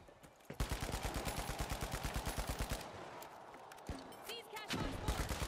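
In the shooter video game The Finals, a FAMAS rifle fires a rapid, evenly spaced burst of loud close shots, followed by a few more after a pause, while players talk over it.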